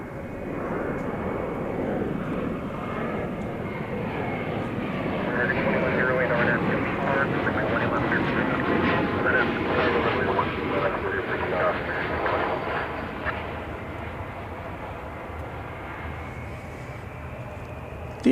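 American Airlines flight 2108, an airliner departing DFW Airport, roars steadily as its engines spool up and it rolls out, with a broad rumble that swells in the middle and then eases slightly, while people talk over it.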